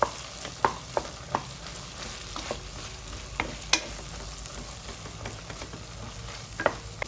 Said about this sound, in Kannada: ಈಗ ರುಬ್ಬಿರೋಂಥ ಮಸಾಲ ಹಾಕ್ತಾ ಇದ್ದೀನಿ ಮಸಾಲೆ ಜೊತೆ ಸೇರಿಸಿ ಹುರ್ಕೊಳ್ಬೇಕು